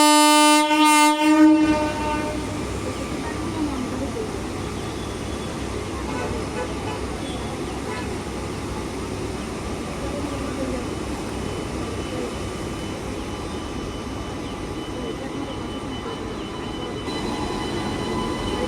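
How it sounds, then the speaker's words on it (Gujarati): A train pulls out of Amalsad station, beginning with a brief horn blast and then settling into a steady, loud rumble of rolling wagons. "કાલની ઊભી ટ્રેન જાય છે આજે 9:30 વાગ્યા"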